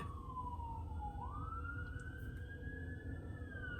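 A fire department emergency vehicle siren wails steadily at moderate distance, its tone dipping and then rising into a long sustained pitch over a constant background rumble.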